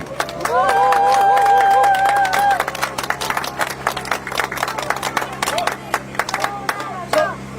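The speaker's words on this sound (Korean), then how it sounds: "여러분, 손하정 후보에게 응원의 박수 한번 부탁드립니다" A crowd at a campaign rally claps for a candidate, a burst of many hands in a dense patter that thins into scattered claps, under amplified sustained tones and some voices.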